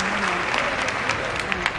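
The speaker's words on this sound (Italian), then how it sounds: "un applauso a tutti" A crowd at the Piazza Giallorossa applauds the Lecce football players after their promotion to Serie A. Steady, dense clapping runs throughout, with scattered louder claps and voices mixed in.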